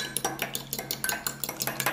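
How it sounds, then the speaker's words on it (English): A fork briskly whisks eggs with a splash of milk in a bowl, giving fast rhythmic clinks and scrapes against the sides, close and steady, with no talking. "go ahead and just mix your eggs together"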